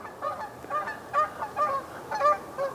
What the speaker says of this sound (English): So many geese.